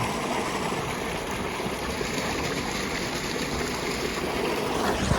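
Irrigation water flows steadily through a farm channel on a dairy farm, a continuous close gurgling rush with no pauses and no talk.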